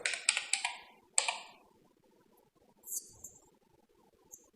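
Typing on a computer keyboard: a few crisp, close keystrokes at the start, then a soft stream of faint, rapid clicking and a couple of lighter taps, quiet overall with no voices.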